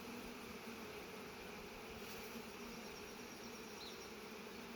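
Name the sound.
honey bees buzzing on a hive frame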